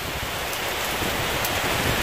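Steady rain falls outdoors, a dense, even hiss of drops on surfaces, continuous and fairly loud with no talk.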